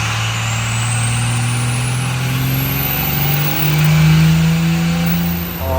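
Diesel truck with a Scheid Stage 2 VP44 injection pump, running on a dyno on a comp tune, roars loudly and steadily, its pitch climbing as the revs build, then easing off near the end.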